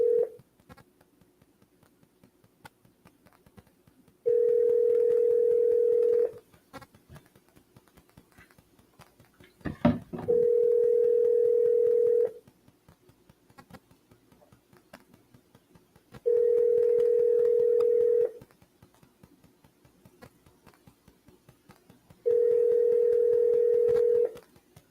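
A landline phone call: a long, steady ringback tone repeats four times with pauses between, and a short click or dial burst falls near the middle, with no voices.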